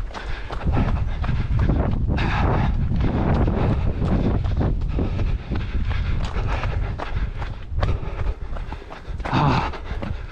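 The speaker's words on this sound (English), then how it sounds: "Ah, the wind." Strong gusting wind buffets the microphone on a mountain running trail at Montserrat near Barcelona, roaring loudly and continuously with rumbling surges and a runner's breathing faintly beneath.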